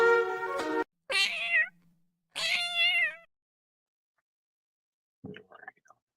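Two drawn-out cat meows close by, each with a rising then falling tone, followed by a brief soft chirp after a pause.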